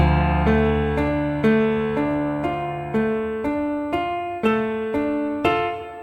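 Moonlight Sonata played on piano without the sustain pedal, so the bass notes do not keep ringing. About a dozen evenly spaced broken-chord notes sound close and clear, each decaying quickly, with no talking.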